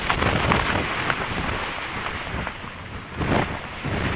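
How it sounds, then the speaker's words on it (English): A mountain wind gust in the Pyrenees roars against the microphone in broad, rumbling surges that swell and ease, loud and close, with no speech. "Yeah, I would call that a gust."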